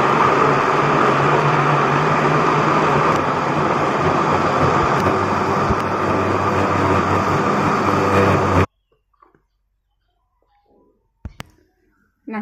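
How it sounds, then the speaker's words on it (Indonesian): Kitchen blender grinding soaked soybeans for homemade soy milk, a loud steady motor whir with churning for about nine seconds, then cutting off abruptly into near silence with a few faint clicks and handling sounds. "Nah, sekarang kita blender."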